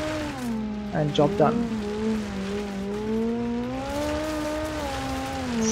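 Rally car in BeamNG sliding sideways and accelerating, with a steady engine drone that rises and falls as the throttle is held, a brief tire-squeal burst near the start, and a voice talking over it.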